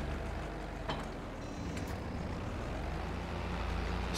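A small tractor engine drives across a field in a farming simulator on a Polish lowland map, giving a steady, low diesel rumble with faint mechanical rattles and no pauses.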